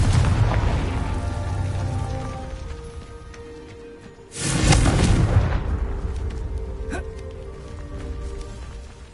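A Confringo spell blast in Hogwarts Legacy on PS5 lands midway as a loud, sudden explosion. It rises over dense, continuous game rumble and clatter that runs through the whole stretch.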